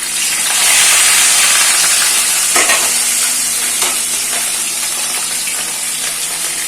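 Several pieces of fish fry in a hot pan, a steady broadband sizzle with crackling spatters, holding fairly loud and even throughout with a few sharper pops and no talking.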